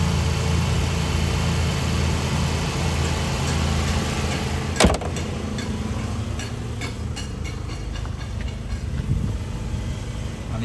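The 3.0-liter six-cylinder engine of a 2010 Cadillac SRX idles smoothly and steadily, a soft even hum with a light ticking, interrupted by a sharp click or thump midway.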